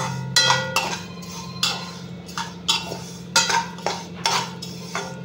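Vermicelli being roasted in a pan for semiya halwa and stirred with a metal utensil: uneven scraping clanks and clinks against the pan come every half second or so, close and clear, with no speech.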